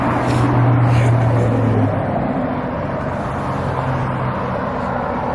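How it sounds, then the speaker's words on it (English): Cars pass on a nearby road in a loud, continuous roar of tire and engine noise that swells early and then settles to a steady traffic wash. "I'm gonna let the freaking cars pass."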